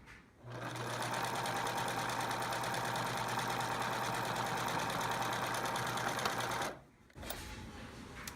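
A sewing machine runs a large zigzag stitch along a garment seam edge, a close, steady whirring hum for about six seconds before stopping briefly and starting again.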